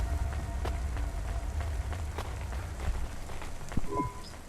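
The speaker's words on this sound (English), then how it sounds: "Don't let all the rain get you down." Rain falls in the video game Cloudpunk, a steady patter of drops on hard surfaces with scattered louder taps and a faint electronic tone near the end.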